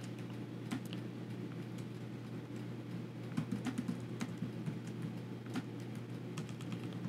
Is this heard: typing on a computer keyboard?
yes